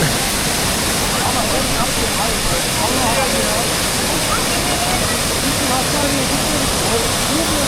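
The Sızır waterfall in Sivas gives off a steady, loud roar of rushing water that holds constant throughout, with faint voices just audible beneath it.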